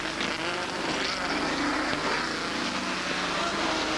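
TVR race cars, including a TVR 420 and the big TVR Tuscan, roar past on a motorsport circuit as a dense, loud engine din, with a commentator's voice running over it.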